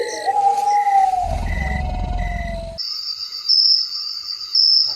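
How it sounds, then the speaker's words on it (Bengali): Cartoon crickets chirp on a quiet village night around eleven o'clock, a shrill, steady trilling that starts over a low rumbling swell and then continues alone in sharp repeated bursts. "শুধু ঝিঝি পোকার ডাক আর কুকুরের হালকা ঘেউ ঘেউ শোনা যাচ্ছে।"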